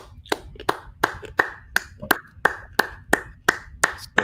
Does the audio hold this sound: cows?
no